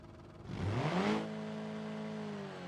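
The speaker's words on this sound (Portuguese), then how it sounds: "O barulho do motor tá bom." A virtual BMW X1 engine in BeamNG.drive revs up with a rising whine, then settles into a steady, droning hum that carries on alone.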